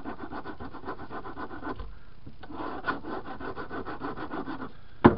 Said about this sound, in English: And then I just finished it up with a square file.